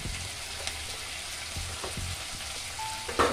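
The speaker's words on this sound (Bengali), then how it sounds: "তারপর টমেটোটা ভাজা হয়ে যাওয়ার পর আমি এর মধ্যে দিলাম ওটা চেরা কাঁচা লঙ্কা" Split green chilies frying in hot oil with tomato for a Bengali bata fish curry, giving a steady soft sizzle throughout with a few faint stirring clicks and a brighter crackle near the end.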